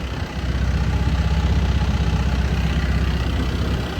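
A long-tail boat engine, its propeller mounted at the end of a long shaft, runs close by with a steady low, throbbing drone and no break or voices throughout.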